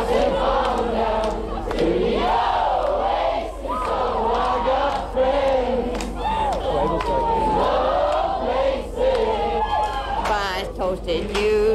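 A big crowd roars around a performer as he performs live and unplugged from the roof of his minibus in Bray, County Wicklow, Ireland, in 1997. Loud, unbroken massed voices shout and sing throughout, close and dense.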